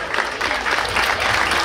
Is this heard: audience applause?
yes